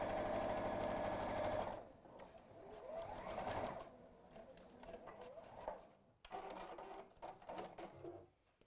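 A domestic sewing machine stitches fabric with a fast, even mechanical whir for the first couple of seconds, then stops, leaving quieter handling clicks and soft rustles afterward.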